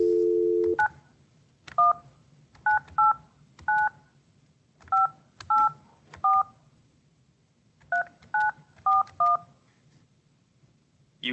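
Telephone keypad dialing tones, a single steady tone and then about a dozen short separate DTMF beeps at uneven intervals, clear and close over faint line hiss.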